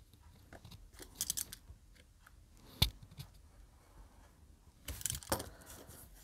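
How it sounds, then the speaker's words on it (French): A few short crisp snips of scissors cutting fabric or paper while making a fabric-covered mini album, in bursts separated by quiet handling noises. "Et on peut découper."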